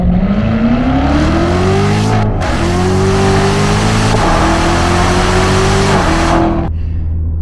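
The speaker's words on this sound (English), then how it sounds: "Hearing it from the inside and the sound that exhaust produces right behind you" A 650 hp C7 Corvette Z06 with a loud exhaust, heard from inside the cabin while driving, its engine note rising hard through several gear pulls with brief dips at each shift, close and loud throughout.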